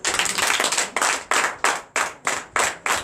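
A congregation claps in strong rhythmic bursts at a night deliverance and prophecy service, roughly eight loud, even volleys of hand claps close by, with no talk over them.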